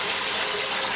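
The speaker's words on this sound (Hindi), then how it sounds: "हमने इसमें 1 लीटर पानी डाल देना है।" Water poured into a cooking pot for chickpea pulao, a brief steady splashing trickle, moderately close and alone.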